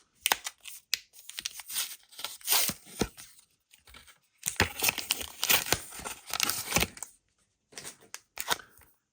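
Foil wrapper of a Pokémon trading card booster pack being torn open by hand, a long run of crinkly ripping and crumpling bursts with short pauses, close and fairly loud.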